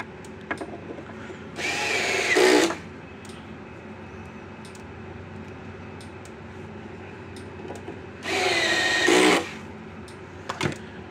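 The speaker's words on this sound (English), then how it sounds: "magnetize the screw or the bit a little bit more. So these screws don't fall out as I'm trying to put them in" A power screwdriver with a magnetized bit drives screws into the circuit board of a Gallagher S22 electric fence energizer. Two separate short whirring bursts, each about a second long, stand out from a quiet background with small clicks of handling.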